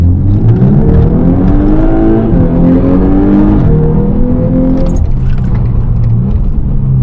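A car engine revs and pulls through the gears while driving through Birmingham, loud and close with rising and falling harmonic tones throughout, no talking.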